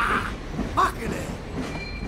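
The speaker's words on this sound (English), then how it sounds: "Let's catch a train." Train in the video game Grand Theft Auto V rumbling along on rails, a low steady rolling with faint squeals and metallic clicks, with a voice talking briefly over it.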